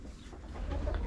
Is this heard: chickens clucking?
yes